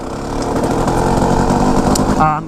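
A Kawasaki KX250 dirt bike engine while riding, a loud, rough, buzzing two-stroke drone that holds steady close to the mic, with a brief dip at the end.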